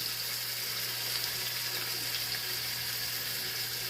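Pork chops sear in a frying pan, a soft continuous sizzle and hiss at low volume with a faint steady hum underneath.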